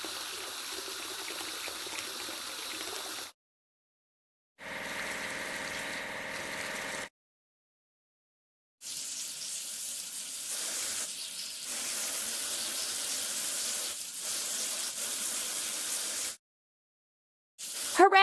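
Water spray from a cartoon car-wash hose in a kids' vehicle game hisses in long steady bursts, broken by abrupt silent gaps, with no voices over it.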